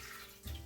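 Room-temperature water pours into a Cuisinart bread machine pan, a faint, steady trickle that swells into a fuller splash near the end.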